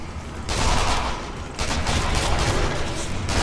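Continuous rapid SMG bursts in Sniper Elite Nazi Zombie Army, a loud crackling stream of gunfire with a brief break before firing resumes, filling the whole moment.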